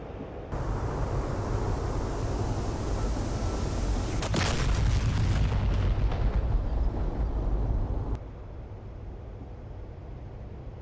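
Mark 84 bombs exploding on a port in the DCS World flight game produce a loud, sustained rumbling roar, rising to a heavier burst midway before settling into a lower, quieter rumble.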